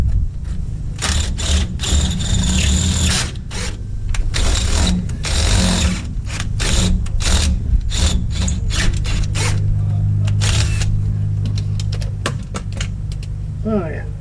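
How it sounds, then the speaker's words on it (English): A cordless drill with a 7/16 bit cleans out a hole on a Super Duty truck during rear air bag installation, whirring in loud, stuttering bursts of rattling motor noise with someone talking in between. "But first I need to clean this hole up with a 7/16 drill."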